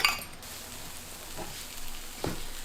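Potato hash brown sizzles in a pan while a utensil stirs it, a soft steady fry with a few clinks and scrapes of metal against the pan.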